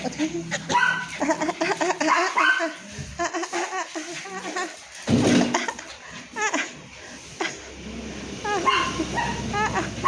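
Dogs yip and bark in short bursts, mixed with whimpering, close by, while people talk and laugh over them.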